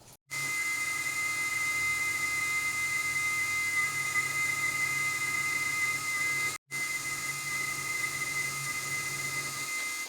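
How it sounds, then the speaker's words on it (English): Drill boring holes in a metal jack shaft housing part for a chainsaw-powered dirt bike, a steady high whine running continuously, cutting out briefly once, then resuming at the same level. "Here I've just got to drill 2 holes."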